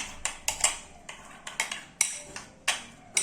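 Spoon clinking against a bowl while stirring a sauce mixture for murukku, a series of sharp, bright metallic taps at an uneven rhythm, close and fairly quiet, with no talking.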